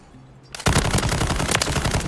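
The RAAL MG in Call of Duty: Modern Warfare opens up after a short quiet moment, a loud, close, sustained burst of rapid automatic fire that continues to the end.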